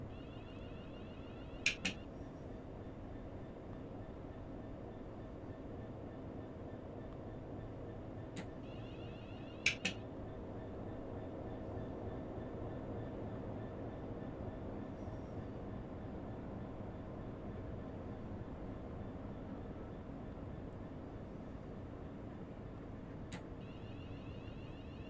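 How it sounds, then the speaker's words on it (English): A diesel locomotive idles in Train Sim World, a steady low rumble that holds for the whole stretch, broken by a few sharp, isolated clicks. "I can hear the diesel loco"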